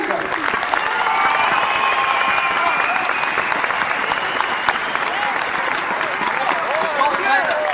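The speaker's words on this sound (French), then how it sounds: "Applaudissements pour tous ces talentueux cosplayers, s'il vous plaît, ils le méritent." Sustained applause from a crowd at a Lyon e-sport event, clapping steadily for a group of cosplayers, with cheering voices mixed in throughout.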